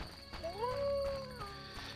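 A dog in The Witcher video game howls once, a single rising and sustained mournful howl, faint and somewhat distant over a low game ambience.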